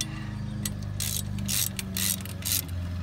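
A ratchet wrench tightens bolts on a Rough Country differential guard on a vehicle, giving bursts of rapid clicking pawl sounds in several separate runs over a steady low background hum.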